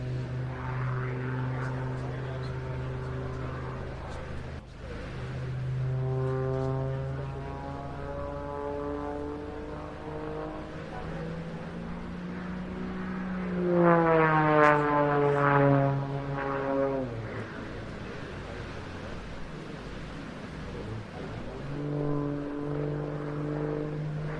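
An aerobatic propeller plane at the Jersey International Air Display 2024 dives and pulls aggressive negative-G pushes, its engine drone rising and falling in pitch as it sweeps past, loud at the nearest pass.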